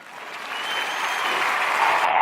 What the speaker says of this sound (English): Round of applause, so round of applause.